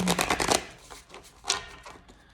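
Tarot cards being shuffled by hand in a quick burst of riffling flutters, then a pause and a couple of softer single shuffles.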